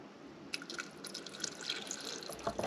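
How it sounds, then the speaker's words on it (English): Water filling a sprouting jar through a stainless steel lid: a soft, close trickle and splashing that starts abruptly and keeps running, with no talk. "So from there, I will just simply fill with water."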